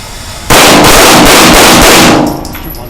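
Pistol shots fired at a moving target during a Tueller drill: a very loud, close burst of rapid cracks lasting about a second and a half, fading into a ringing tail, no talk.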